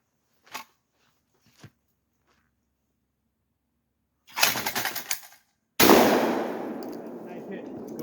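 A Lynx 12 shotgun fires a single loud, sharp blast outdoors at night during training, with a long ringing decay, preceded by faint clicks and a rustle of handling.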